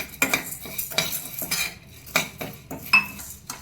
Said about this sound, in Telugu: పప్పు ఇందులో వేసేసి కొంచెం ఎరిపెక్కే వరకు, కొంచెం వేడెక్కే వరకు వేయించుకోవాలి.